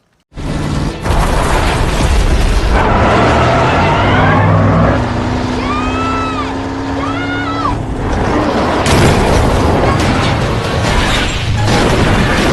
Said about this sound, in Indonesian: Saat mobil yang dikendarai broker terbalik